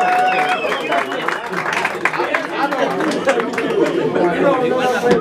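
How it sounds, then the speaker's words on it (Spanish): Audience applause and clapping after a birthday mariachi song, mixed with lively crowd chatter and voices talking over it. "Y ese aplauso que se escuche, claro que sí."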